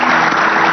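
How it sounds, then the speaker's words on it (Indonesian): A studio audience claps for the guests in a brief, loud, dense burst of applause with no pause. "Saya minta tepuk tangannya untuk tamu-tamu saya luar biasa"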